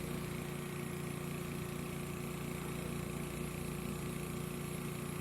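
A Laurell WS-400BZ spin coater runs up toward 3000 RPM, giving a faint, steady mechanical whir and hum with tonal whine, constant and alone without speech.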